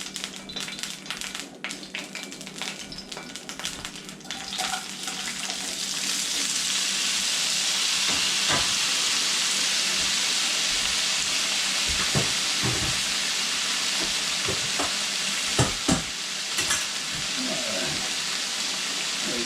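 Potatoes browning in a hot pan for chicken curry give a soft, steady sizzle and crackle with scattered pops, quiet at first and then building into a fuller frying hiss that holds to the end.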